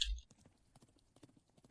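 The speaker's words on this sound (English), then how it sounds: "So now we've got 105 horses charging." Horses charging in the video game Thronefall, a quiet patter of many hoofbeats clip-clopping in quick uneven rhythm after a brief sharp sound at the start.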